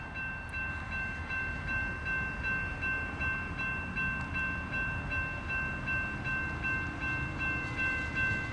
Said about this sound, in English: they're putting together an eastbound mixed freight right now